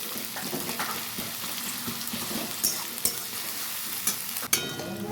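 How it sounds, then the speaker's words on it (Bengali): Chopped onions sizzle steadily in a pan over high heat while being made into ghugni, with a few sharp clicks from stirring. "এরপর একটু হাই স্পিডে ভালো করে ভেজে নেব পেঁয়াজটা"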